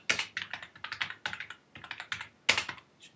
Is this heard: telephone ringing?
no